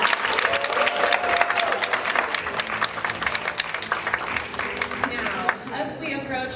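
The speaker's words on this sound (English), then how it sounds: "Let's give them one more round of applause." Pageant audience applauding steadily and loudly, dense clapping from a large crowd that carries on for several seconds before tapering slightly, with a voice speaking faintly underneath.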